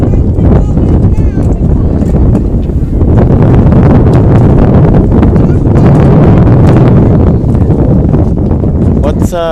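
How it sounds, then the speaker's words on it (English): Strong gusting wind buffets the microphone at an outdoor track meet, a loud, continuous roaring rumble that never lets up. "And the wind is whipping right now. I'm sure you can hear it on the live stream."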